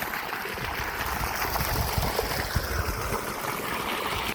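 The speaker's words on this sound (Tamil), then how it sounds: "மூணு இன்ச் பைப்பு தண்ணியோட ப்ரெஷர் இந்த அளவுக்கு வந்துக்கிட்டு இருக்குது" Water gushes powerfully from a 3-inch pipe fed by a 7.5HP Texmo pump on a farm in Dharmapuri, a loud, dense, continuous roar and splash up close.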